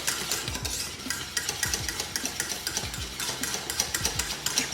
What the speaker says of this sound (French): Je continue évidemment à fouetter.